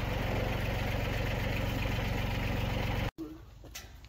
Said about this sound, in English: I'm going to bring the tractor in straight